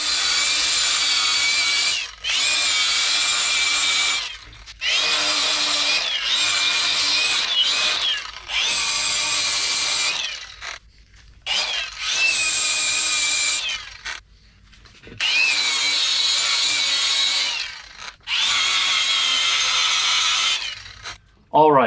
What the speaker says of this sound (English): then I'm gonna grind everything smooth so it looks better